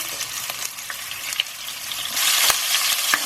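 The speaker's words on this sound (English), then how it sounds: "we're going to add our whole cumin seeds, some Hing or Asafetida, green chillies to your taste" Whole cumin seeds, asafetida and green chillies sizzle in hot oil for an eggplant curry, a steady close crackle with small pops that swells into a louder hiss near the end.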